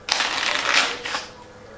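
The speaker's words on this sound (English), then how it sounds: "Give it one more shuffle." A deck of playing cards is shuffled by a magician, with a few bursts of crisp, fluttering riffling, close and fairly loud against a quiet room.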